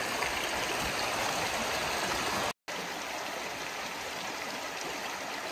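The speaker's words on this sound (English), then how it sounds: "We can hear a creek" A forest creek on a winter walk flows steadily and loudly close by, a continuous broad rush and gurgle of water with no talk, broken only by a brief cut partway through.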